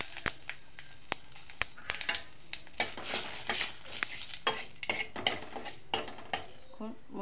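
Bay leaf and five-spice seeds frying in hot oil for a Bengali fish-head and greens dish, a soft steady sizzle broken by sharp clicks of a utensil stirring against the pan.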